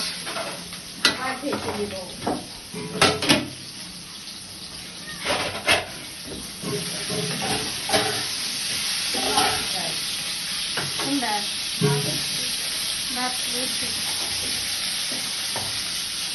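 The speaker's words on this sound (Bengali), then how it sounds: "আলু কষানো শেষ টমেটো ঝুল দিয়ে" Potatoes and tomato frying together in a pan, a hissing sizzle with intermittent stirring clatter and knocks, while someone speaks softly in Bengali at intervals over the cooking.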